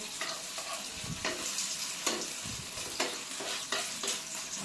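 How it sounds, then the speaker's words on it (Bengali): An egg and poppy-seed omelette fries in a pan, giving a constant close sizzle. Soft spatula taps and scrapes recur every second or so. "প্রত্যেকটা অমলেট আমি এইভাবেই ভেজে নেব।"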